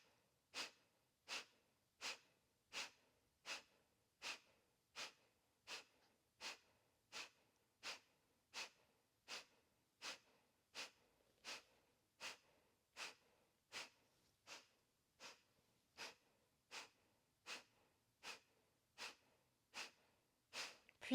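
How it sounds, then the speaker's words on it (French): Kapalabhati yoga breathing: about thirty sharp, forceful nasal exhalations in a steady, evenly spaced rhythm, close and clear, each a short puff followed by quiet passive inhalation. "D'abord 30 Kapalabhati."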